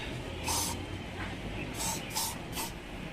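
Koby protectant spray is sprayed onto a motorcycle in several short hissing bursts, about four quick spritzes spaced apart, close up against a quiet background.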